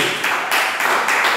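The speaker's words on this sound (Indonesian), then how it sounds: "Tepuk tangan sekali lagi." A church congregation clapping hands together, a loud close burst of many palms in rhythmic waves that swell and dip about every half second.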